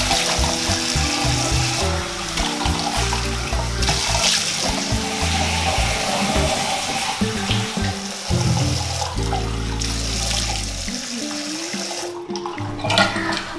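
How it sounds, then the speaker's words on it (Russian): Warm water runs steadily from a tap at a sink while a face is washed, with splashing and shifting flow close by, continuing for the whole stretch before briefly cutting off near the end. "Сейчас лицо помою."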